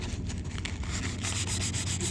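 Close, continuous rhythmic rasp of sandpaper on van fender flares, steady strokes filling the short stretch with no voices.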